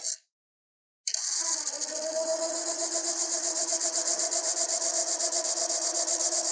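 A spiral texturing tool cuts into a spinning wooden box on a woodturning lathe. After a brief burst and a moment of silence, a steady, close rasping scrape starts up and holds with a fast, even pulsing.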